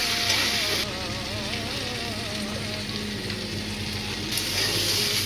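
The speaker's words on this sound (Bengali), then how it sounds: "ভালো করে ভাজবো" Potato and soybean pieces frying in hot oil with turmeric, tomato and spices for a soybean curry, giving a steady close sizzle that runs through the whole stretch with no talking.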